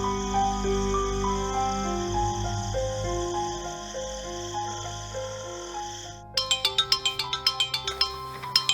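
A mobile phone rings with a bright electronic melody of steady sustained tones, giving way after about six seconds to a rapid, rhythmic run of sharp chirping beeps, heard during a Santali feature film scene.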